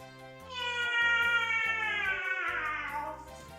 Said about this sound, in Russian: И она сейчас мяукала за печкой.